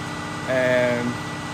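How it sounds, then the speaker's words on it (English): An engine idles with a low steady hum, then revs up briefly for about half a second with a rising whine before settling back to idle. "So I'm just doing a test now, revving it up there."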